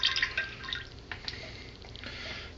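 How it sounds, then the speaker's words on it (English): Clarifier from a wine-making kit pours into the fermenting liquid, a faint trickle and splashing of liquid with a few small drips, quiet and close. "I cut this packet open, so go ahead and pour this in."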